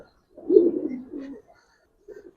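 An old-breed male Giribaz pigeon in an Old Dhaka loft gives one clear, close, throaty coo lasting about a second, then a short softer coo after a pause.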